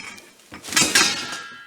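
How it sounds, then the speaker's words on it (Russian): Metal dishes clink and clatter together in a short jumbled burst, fairly close, with no talking. "Тут какая-то железная посуда."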